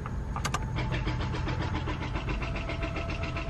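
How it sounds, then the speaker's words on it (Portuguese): A car engine failing to start: the starter cranks in a steady rapid rhythm for several seconds without catching, close and fairly loud, with no talking. "nosso carro não tá ligando. Tenta de novo, amor."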